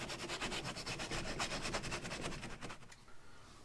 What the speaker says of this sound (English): use a sanding block and go ahead and just give this a light sanding